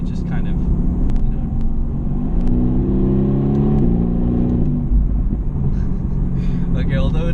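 A Mercedes-AMG GT S with a V8 engine accelerating, a loud, deep, rising engine drone with a steady low rumble throughout, climbing in pitch through the middle and easing off near the end, heard under someone talking.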